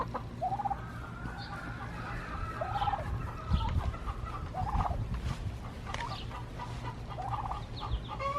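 A hen searching for a spot to lay her egg gives repeated soft clucks and rising calls, fairly faint and a little distant, over a low steady background hum.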